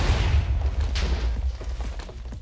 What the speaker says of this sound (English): This is gonna be a huge explosion.